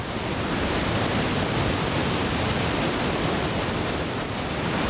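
Water rushes steadily and loudly through opened floodgates at Hubbard Creek Reservoir, a continuous broad roar with no pauses and no voices.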